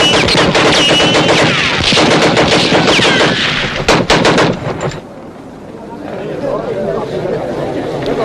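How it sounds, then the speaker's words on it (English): Gunfire from a 1954 western film battle scene: dense, loud rapid shots and bursts blending with shouting voices, then cutting to a quieter stretch with lower rumbling background. "Now let the gun speak."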